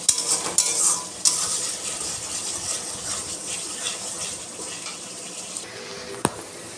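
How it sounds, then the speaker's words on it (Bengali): Drained chicken pieces drop into a pan of oil and fried spices for chicken bhuna, followed by steady sizzling and the scrape of a spoon stirring. The sizzle fades slowly, and one sharp metallic clink sounds near the end. "এই যে এই চিকেন জল ঝরানো আমি দিয়ে দিলাম। নাড়তে হবে।"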